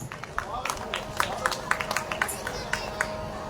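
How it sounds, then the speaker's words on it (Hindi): Audience applause at a staged devotional drama performance in Vrindavan, heard as a steady patter of hand claps over crowd noise, moderately loud and continuous. "जोरदार तालियों से स्वागत।"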